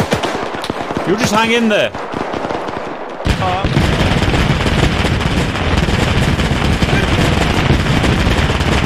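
Sustained gunfire in a WWII battle for Berlin in Arma 3: dense, continuous rattling of machine guns and rifle shots, loud and close, with a brief lull before resuming, while someone speaks over it.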